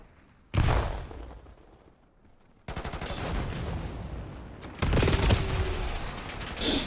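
In Call of Duty Black Ops 7, a sudden loud cluster grenade blast goes off, then comes a lull. After that, dense rapid gunfire and more explosions rattle on without pause, with a second heavy burst partway through.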